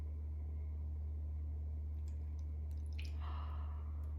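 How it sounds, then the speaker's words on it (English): Water poured in from the side trickles and drips over rocks, a faint wet patter rising late under a steady low hum. "Now all we need to do is pour our water in from the side."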